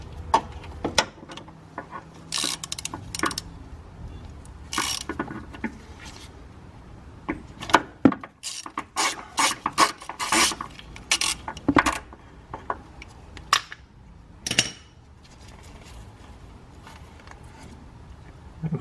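A wrench with an extension works the tensioner bolt on a 2.5L four-cylinder 2013-2017 Mazda CX-5 engine, giving scattered metallic clicks and ratcheting taps in short irregular bursts, close and fairly quiet.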